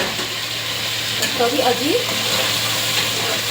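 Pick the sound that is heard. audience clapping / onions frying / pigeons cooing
onions frying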